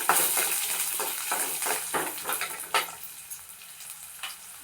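Dried red chillies being stirred and fried in a pan for banana flower thuvaiyal, with close, steady sizzling and repeated scraping of a utensil against the pan, no talking.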